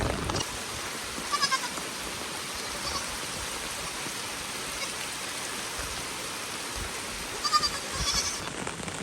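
A goat bleats twice, briefly near the start and again toward the end, over a constant rushing of river water.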